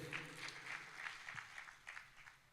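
Faint applause from an assembly at a religious festival gathering honouring a swami, a soft, distant patter of clapping with a few louder claps surfacing, quiet throughout.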